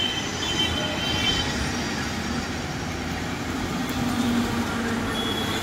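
A Delhi Metro Pink Line train rumbles steadily at Shakurpur station, a continuous low mechanical drone with a faint whine rising briefly near the end.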